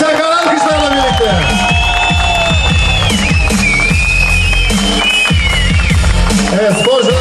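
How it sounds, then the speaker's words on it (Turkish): A crowd at a cage fighting match cheers and claps loudly and continuously, with a public-address voice talking over the noise and whistle-like tones rising and falling above it. "sporcularımıza büyük alkış"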